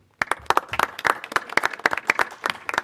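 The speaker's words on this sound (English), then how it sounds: "join me in giving him a round of applause" An audience at a solid waste authority meeting claps after a brief silence, the applause rising quickly into a lively, moderately sized round of clapping that continues to the end.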